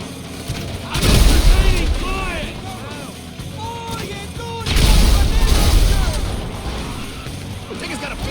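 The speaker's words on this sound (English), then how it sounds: "grenade launcher." Grenade launcher blasts in the video game GTA V: two heavy booming explosions with rumbling tails, loud and close, mixed with game sound effects and a voice talking.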